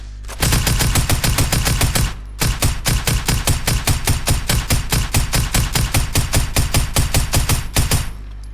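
A tactical assault rifle fires in Fortnite: loud, rapid full-auto bursts in a steady rhythm, a short burst then a brief gap, followed by a long sustained stream of evenly spaced shots, close and dominant with no talk.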